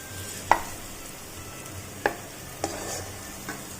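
Vegetables frying in a pan for sabudana pulao sizzle softly beneath a few distinct clinks and scrapes of a spoon stirring against the pan, quiet and close, with no speech.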